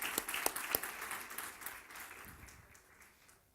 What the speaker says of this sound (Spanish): Démosle un aplauso al Cristo resucitado.